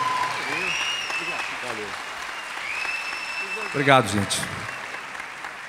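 Audience at a Jazz Solidário 2014 jazz concert applauding, a broad steady wash of clapping throughout with someone speaking over it at the start and again near the end.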